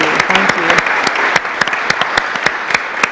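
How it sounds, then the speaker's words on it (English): A room of people at a city commission meeting claps for a student honoree, a short burst of dense, close applause with sharp individual claps standing out. "So a big round of applause for you."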